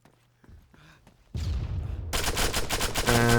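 Gunfire in the video game Arma 3: a single loud shot rings out, then rapid, close automatic fire follows in dense, continuous bursts.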